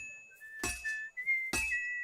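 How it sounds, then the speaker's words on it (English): A person whistles a sustained, wavering melody in short phrases, with a couple of brief clattering knocks cutting in between notes. "how is he talking while whistling?"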